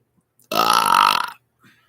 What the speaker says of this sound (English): talking in the burps or the really long burps?